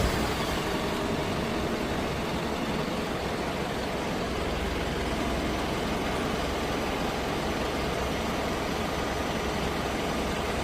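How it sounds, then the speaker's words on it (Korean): A Hyundai All New Mighty truck's diesel engine runs after a smartphone remote start, giving a steady, loud, low rumbling idle that holds close and constant throughout with no voices. "10초 동안 엔진 에어를 한 후에 시동을 걸어줍니다."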